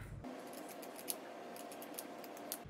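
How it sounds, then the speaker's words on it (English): Kitchen scissors snip through stainless steel mesh in several sharp, close metallic cuts, spaced irregularly over a quiet background. "Can I cut it with my kitchen scissors?"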